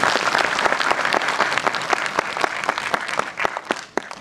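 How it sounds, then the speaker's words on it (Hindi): Loud, close audience applause for theatre performers after a stage play, a dense stream of individual sharp claps that stays strong and then begins to thin toward the end. "तालियां इन कलाकारों के लिए।"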